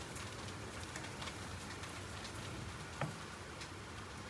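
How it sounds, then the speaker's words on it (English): A major hailstorm drums outside an open craft room door, a dense steady patter of falling ice with scattered sharper ticks, heard from indoors at a moderate distance. "I've got one major hailstorm taking place and my craft room door's wide open"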